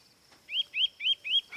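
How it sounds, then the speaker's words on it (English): A cartoon bird chirps in four quick, bright rising calls in an even rhythm, close and clear over a quiet background with no talking. "Will you stop that chirping, you little rascal?"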